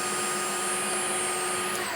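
A Dreame H14 wet-dry vacuum cleaner runs its automatic self-cleaning cycle, giving a steady mechanical whir with a faint high whine, constant and close throughout.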